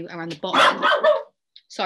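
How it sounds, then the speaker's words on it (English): A dog barks in a short burst nearby, breaking in between a man's spoken remarks. "that's my dog."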